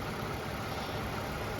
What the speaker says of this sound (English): 2GRFE, man. The smoothest, best engine in the world, I think.